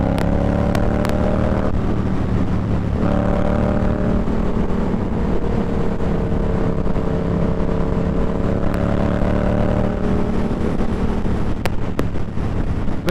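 Steady wind roars through the open vent of an AGV K1S motorcycle helmet while riding, a loud continuous rush under a faint engine drone, with no talk.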